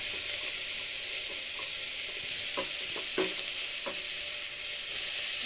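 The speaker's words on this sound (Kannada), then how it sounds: "ಇವಾಗ ಆಲೂಗಡ್ಡೆ ಬೀನ್ಸ್ ಹಾಕ್ತಾಯಿದ್ದೀನಿ. ಮತ್ತು ಟೊಮೊಟೊ, ಕ್ಯಾರೆಟ್," Potatoes, beans, tomato and carrot added to hot oil in a pressure cooker, a steady loud sizzle with several clattering knocks and scrapes as the vegetables drop in and get stirred.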